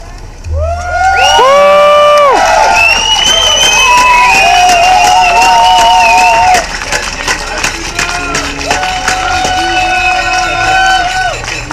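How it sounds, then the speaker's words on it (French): An audience at an evening show cheers, whoops and shouts loudly after a dance performance, with children's voices and applause mixed into a dense, sustained roar that eases partway through. "On applaudit bien fort"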